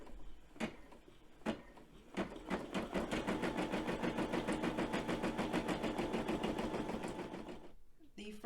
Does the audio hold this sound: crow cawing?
no